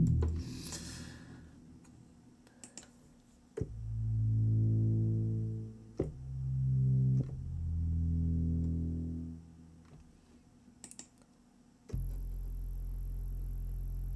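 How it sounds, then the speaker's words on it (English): Deep, booming sub-bass notes from the Zebra synthesizer swell and hold in long sustained bursts, low and heavy, with brief gaps between them and a sharp buzzy tone at the end. "Well, that's a real sub sound."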